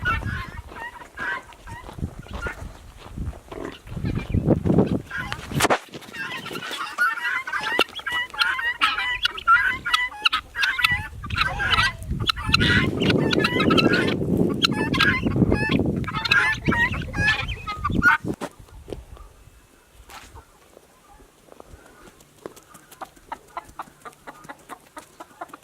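A flock of guinea fowl calls nearby with loud, harsh, repeated chattering and clucking that swells in the middle and then thins out to scattered calls, with occasional voices in the background.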